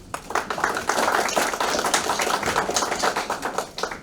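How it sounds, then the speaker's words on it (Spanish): Audience applause at a formal institutional event on workplace gender violence and human rights, a steady patter of many hands clapping for several seconds with no talk over it. "para quien pido un fuerte aplauso"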